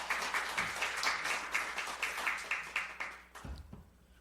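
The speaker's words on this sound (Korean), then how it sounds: "모두를 위해 큰 박수 부탁드립니다." A church congregation of about a hundred people claps after a Christmas service, with distinct individual claps in a loose rhythm that fades and thins out toward the end.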